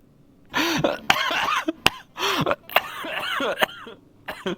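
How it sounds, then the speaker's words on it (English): A person coughs several times in harsh, wet, chesty bursts, with short pauses and a throat-clearing rasp between them. "Sorry, chesty cough."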